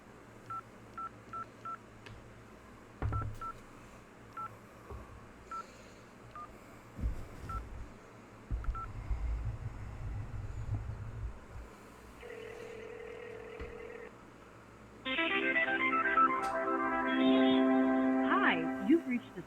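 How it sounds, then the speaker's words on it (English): A telephone call being placed: a run of short touch-tone dialing beeps, a pause, then a low buzzy ring tone and a brighter recorded tone, up close and loud, with brief talk in between. "I'm going to make a phone call."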